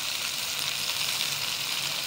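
Chicken with green chili paste and tomatoes frying in a pan, a steady, even sizzle heard up close throughout with no voices.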